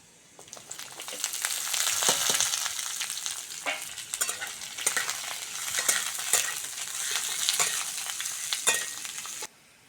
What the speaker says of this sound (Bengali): পেঁয়াজ আর কাঁচা লঙ্কাটা ভালো করে ভেজে নিয়েছি